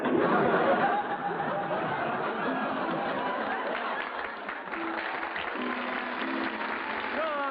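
A crowd applauds steadily throughout, with scattered chuckles and laughter mixed into the sustained clapping, filling the room evenly.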